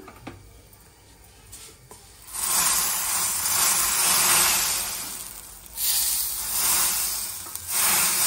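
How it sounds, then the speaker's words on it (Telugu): Water boiling in a pot while semiya payasam is being made gives a loud, steady hissing bubble that surges in two strong waves after a quieter start. "నీళ్ళు మసులుతున్నాయి"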